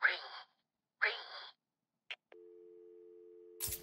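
A telephone in the Arkham City video game gives a steady two-pitch electronic tone lasting over a second, after a brief click, between short bursts of voice.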